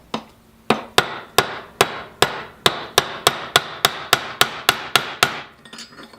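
Hammer striking a rivet on an AK rifle gas piston, about fifteen sharp metallic blows in a steady, slightly quickening rhythm, close and loud, followed by a few softer taps, no talking.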